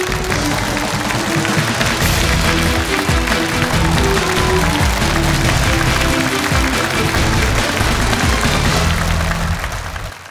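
A studio audience at the Vietnamese 1 vs 100 game show applauds loudly and continuously to greet the next main player, with show music playing underneath the clapping until it cuts off.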